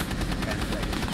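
Rapid automatic gunfire in the game Rainbow Six Siege, a loud, continuous close-range burst filling the whole short moment.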